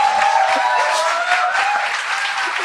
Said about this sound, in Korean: 박수 그만 쳐!